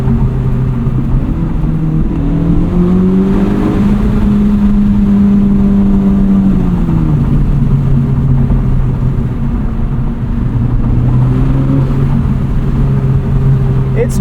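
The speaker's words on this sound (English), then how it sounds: "See if we can hear the exhaust here." A 2023 Honda Civic Type R exhaust with front resonator deleted rumbles steadily while driving, rising and falling in pitch as the engine revs up and settles, heard from inside the car.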